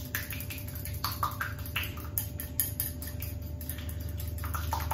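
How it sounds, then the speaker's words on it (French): A spoon stirs a runny lemon juice sauce in a bowl, making quick, light clinks and ticks that repeat steadily and close by, with no talking. "Je mélange avec la cuillère magique."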